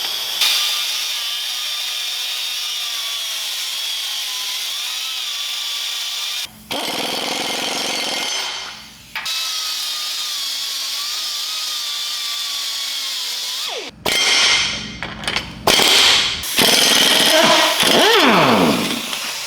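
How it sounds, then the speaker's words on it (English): A power tool grinds through a seized nut on a rusty U-bolt in long, steady high-pitched whining passes, broken by brief stops and restarts with harsher bursts near the end, close and loud. "so I'm going to cut the nut off"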